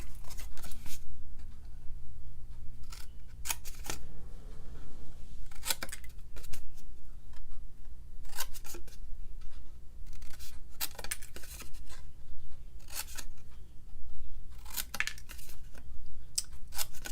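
Scissors cut out the corners of a scored card, giving a series of crisp, close snips in irregular clusters, with soft paper rustling and handling in between.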